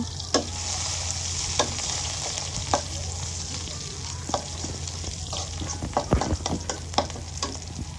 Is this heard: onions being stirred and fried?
yes